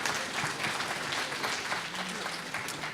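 A crowd applauds a 13-year-old performer at a junior and youth preliminary competition, producing a dense, continuous wash of clapping at moderate loudness.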